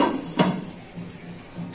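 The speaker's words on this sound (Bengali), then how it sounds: "এবার আমি কড়াইয়ের ঢাকনা বন্ধ করে দিচ্ছি।" A metal lid is set down onto a metal kadai while making chhena poda, giving one sharp clank followed by faint lingering rattles, heard up close in a quiet kitchen.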